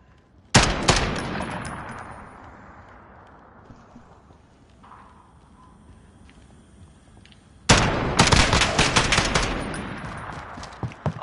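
Semi-automatic gunfire in a competitive multiplayer shooter match, heard as two loud bursts of rapid shots, one near the start and another sustained volley later, with quieter gaps between.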